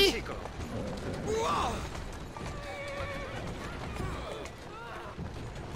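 A horse in the video game Assassin's Creed Syndicate lets out a sharp whinny near the start, with clopping hooves and street noise in the game around it and someone talking over it.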